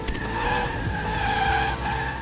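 Tires squeal in a sustained, wavering skid as a car drifts in the Split/Second racing game, with engine roar underneath, steady and loud throughout.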